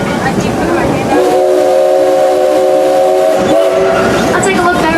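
A Six Flags excursion train rolls along the rails, loud and close, with a continuous rumbling clatter and a long steam whistle sounding over it, while people talk faintly.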